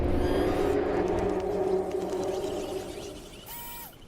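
A T-Rex in PUBG Mobile lets out a deep, drawn-out roar, loud and low-pitched at the start, then fading over a few seconds. A brief higher tonal sweep follows at the end.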